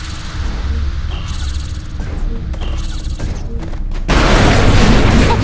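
Bombs go off in the Saints Row IV video game: a rumbling backdrop with scattered thuds gives way to a sudden, loud, sustained blast and crashing roar in the final second and a half.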